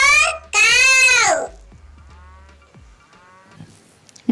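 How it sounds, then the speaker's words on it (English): A cartoon cow gives one loud, drawn-out moo in a children's alphabet song. The call swoops in pitch before it fades into quiet background music. "C for cow."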